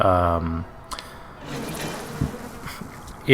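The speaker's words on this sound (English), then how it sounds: "So, you basically shoot bees out of your hands." A buzzing swarm of bees fired from the hands in the video game Bioshock, a brief insect drone rising among game effects with a voice talking over it.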